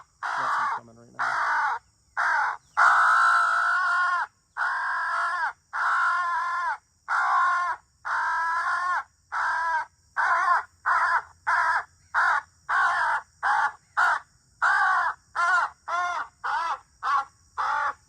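Crows caw loudly and repeatedly in a field during a crow hunt, harsh calls in a long rhythmic series that starts in slower bursts and quickens into rapid, evenly spaced caws, close and clear over a quiet background.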